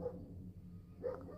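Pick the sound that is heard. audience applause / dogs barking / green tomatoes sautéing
dogs barking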